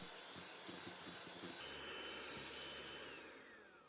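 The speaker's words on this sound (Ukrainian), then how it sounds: "Цукор додаю у два прийоми і збиваю міксером 10-15 хвилин." An electric mixer beats eggs with sugar at high speed, a steady, close, whooshing drone that runs throughout and eases off slightly at the end.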